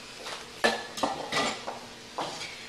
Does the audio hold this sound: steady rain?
no